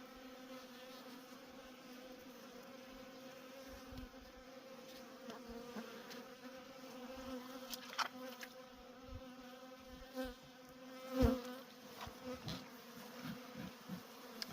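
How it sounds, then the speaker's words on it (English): Honeybees buzz steadily in an open hive with a frame lifted out, a close, soft drone of many wings, punctuated by a few clicks and light handling knocks. "That's a lot of bees in here."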